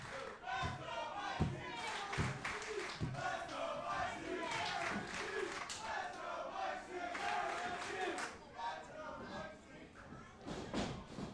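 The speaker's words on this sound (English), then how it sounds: "Crowd emphatically behind Mike Z here." Wrestling crowd at a live independent pro wrestling show roaring and cheering continuously for Mike Z during a sleeper hold, a dense, fairly distant wall of voices with a few sharp thuds early on.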